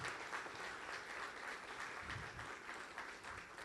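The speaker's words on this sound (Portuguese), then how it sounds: "vamos, em nome de Jesus, aplaudir esses servos de Deus" A church congregation applauds at an installation service for elders and deacons, a steady, dense wash of clapping that holds evenly for several seconds with no pauses and no voices over it.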